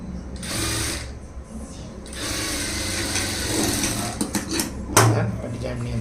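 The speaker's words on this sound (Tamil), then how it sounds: "தையல் போட்டு வாங்க." Sewing machine stitching a blouse lining, a steady mechanical whir running throughout under someone speaking Tamil, with a few sharper clicks near the end.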